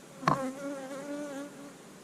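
Honey bees buzz at an open hive during colony splitting, a steady close-up drone with wavering harmonic tones and a brief sharper burst near the start, no voices.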